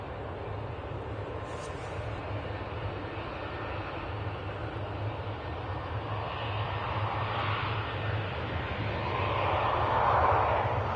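An airplane departs for Faro at Manchester Airport with a steady broad engine roar at moderate distance, slowly building louder toward the end.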